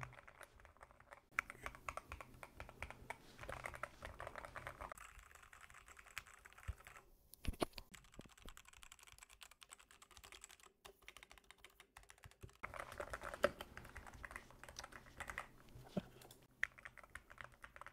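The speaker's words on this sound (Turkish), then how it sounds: "Şimdi bütün harflere basıyorum." Rapid clicky keystrokes on a budget custom-built mechanical keyboard, steady bursts of typing with brief pauses, close and clear with no talking.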